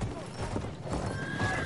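A horse in Battlefield 1 neighs while hooves clip-clop over a busy game soundscape, with a voice talking over it.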